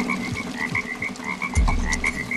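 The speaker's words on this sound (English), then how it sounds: "someone shut that frog up" Frogs croaking in Splinter Cell: Blacklist: rapid, rhythmic repeated croaks over a background chorus, with a low thump partway through.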